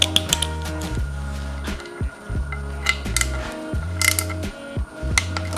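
A Yamaha YFZ450R engine with a fresh top end is turned over by hand during a rebuild, giving a repeated cycle of soft mechanical clicks and ratcheting ticks at close range, roughly once per second, with no talking.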